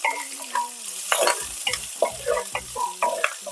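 Curry leaves, fenugreek, ginger and garlic frying in a pan give off a continuous close sizzle, punctuated by repeated scraping strokes and clinks of a stirring spoon, with no voices.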